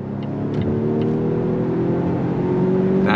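A 2024 Volvo XC60 luxury AWD SUV accelerates hard on throttle, its engine note rising steadily in pitch as it climbs toward highway speed, a loud, sustained drone heard from inside the cabin.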